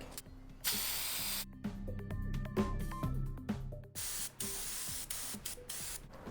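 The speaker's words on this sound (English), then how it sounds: "So I do a spray, I work it through, and then I spray again" Bursts of hissing oil spray onto a motorcycle air filter alternate with clicking and rattling handling noises, the spray starting and stopping several times up close.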